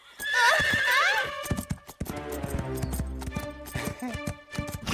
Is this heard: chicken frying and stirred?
no